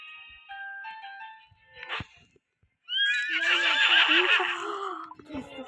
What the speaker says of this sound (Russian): Короче, вот последняя лошадь.